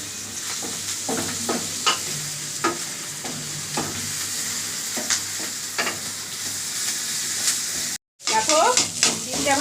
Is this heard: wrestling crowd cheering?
no